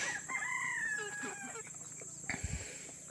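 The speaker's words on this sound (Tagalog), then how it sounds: "Dito yung mga manok ni Papa." Backyard chickens with a rooster crowing, one drawn-out crow followed by softer clucking and rustling, moderately distant and faint.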